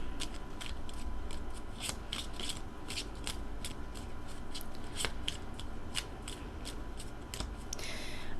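Repeated crisp riffling of tarot cards being shuffled close by, a steady rhythm of soft slaps over a low background hum, with no talking.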